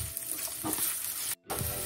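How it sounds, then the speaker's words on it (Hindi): Onions, green chilies, garlic and ginger fry in a pan, giving a steady, close sizzling hiss that cuts out briefly for a moment before resuming. "अब इनको हम इसमें फ्राई करेंगे।"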